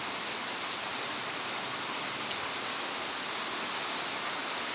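Steady rain falling, an even hiss of drops on surfaces, continuous and fairly soft, with no voices.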